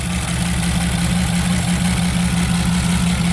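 Freshly swapped engine idling in a 1987 Chevy Camaro, a loud close steady throb with a fast even pulsing rhythm and a deep rumble, with no voices over it.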